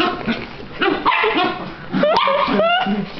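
Small dogs yip and bark excitedly in short bursts, with some high whimpering tones and background voices mixed in.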